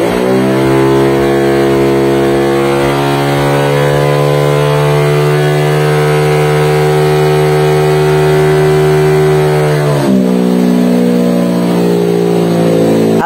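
A motorcycle engine revs hard and steadily on a dyno during a tuning session, holding a loud, sustained high-rpm drone for about ten seconds before the pitch drops as the throttle is released.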